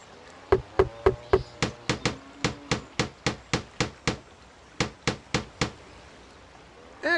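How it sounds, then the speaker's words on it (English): A hammer pounds a new fence post into the ground in the Tonka Workshop game, giving about twenty evenly spaced, sharp ringing strikes in a steady rhythm with a short pause near the end. "Use your hammer to pound the new post into the ground and then nail the pickets to the cross pieces."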